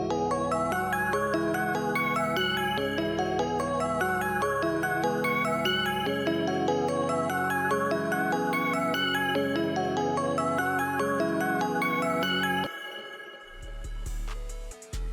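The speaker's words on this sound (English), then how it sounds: "For this first sound, I got this celestial organ from Analog Lab" Celestial organ patch from Analog Lab plays a MIDI melody, dense arpeggiated bright tones stacked over sustained low notes, full and continuous, with the bass dropping out partway and the sound thinning into a short tail at the end.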